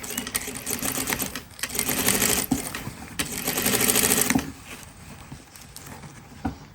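A sewing machine stitches an invisible zip, its fast needle chatter running in close bursts with brief pauses for back tacking before sewing forward again.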